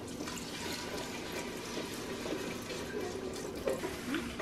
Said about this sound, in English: I'm gonna get some chicken stock poured in.